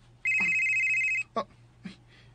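A telephone rings once with a steady electronic tone for about a second, clear and close, followed by two brief soft clicks and quiet room hiss.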